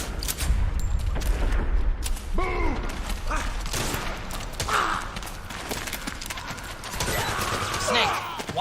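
Sniper rifle shots crack out during a Metal Gear Solid 4 firefight. Mechanical clatter and game sounds run under them, and voices speak over the action.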